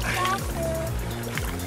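A roughly 40 kg wels catfish (Silurus glanis) slips back into the water in late July, a brief splash and trickle close by, overlapped by excited voices talking.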